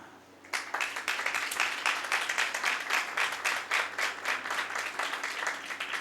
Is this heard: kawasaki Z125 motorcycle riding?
no